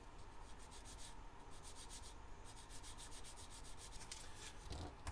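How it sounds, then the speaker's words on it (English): Steady, continuous rasping of sanding sprue gates off small hard plastic scale-model parts, repeated strokes with no pauses, close and fairly quiet. "these need the sprue attachment gates sanding off."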